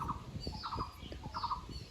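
Birds call at the meditation area of Haidakhan Vishwa Mahadham in the Chhakhata Range near Nainital, Uttarakhand. Faint, fairly distant squawking calls come several times over a low outdoor background, with no voices.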